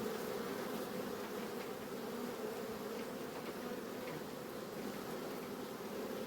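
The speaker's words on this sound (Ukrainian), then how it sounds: "Вон купа бджоли з пилком іде." Honeybees at the entrance of an apiary hive hum in a dense, continuous drone on a hot day, steady and close with no voices.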